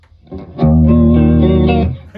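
A clean, undistorted electric guitar chord rings out through a Mesa Badlander 25 amp on its clean setting, with the vibrato pedal off, sustaining for over a second before being cut off.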